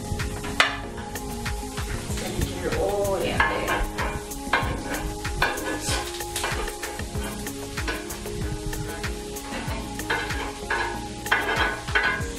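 Mushrooms and onions fry in a pan over lowered heat, a continuous soft sizzle broken by frequent scraping and stirring clicks from a utensil, close and steady throughout.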